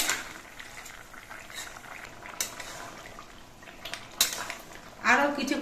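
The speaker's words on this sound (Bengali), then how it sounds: "আর শুক্তো তরকারিটা আর নেড়ে দিচ্ছি এখনো কিন্তু পেঁপেগুলো সম্পূর্ণ সেদ্ধ হয়নি আরও কিছুক্ষণ রান্না করতে হবে" Shukto curry with papaya simmering in a pot as a ladle stirs it, a soft bubbling bed with scattered utensil scrapes and clinks, ending in a louder scraping stir.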